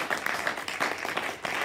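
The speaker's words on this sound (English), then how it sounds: "Come on and clap your hands for the Lord." Church congregation clapping hands together in a rhythmic pattern, soft and somewhat distant, with repeated beats and a few faint voices in the room.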